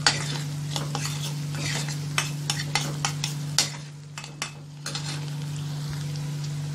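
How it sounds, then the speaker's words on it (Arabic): Chopped garlic and onion sautéing in a pan, a continuous sizzle broken by repeated clicking scrapes of a spoon against the pan, close and fairly loud over a steady low hum, with no talk. "هديهم برضو تشويحة كده مع البصل بتاعي"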